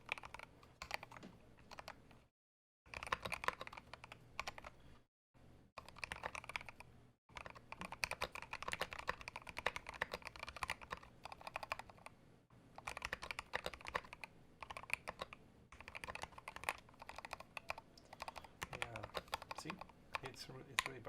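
Steady, rapid typing clatters on a NEO G67 mechanical keyboard fitted with Tangie switches, keys bottoming out with a scratchy scrape against the case, broken by a few short pauses.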